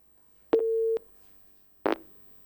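A telephone line tone on a call-in radio show as the next caller connects: a click, a steady half-second tone, then another sharp click a moment later, with no talking.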